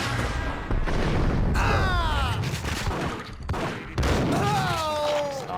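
Shotgun fire in the 2001 game Max Payne booms in heavy blasts amid a dense barrage of other gunfire, with ringing tonal swooshes from the game mixed through.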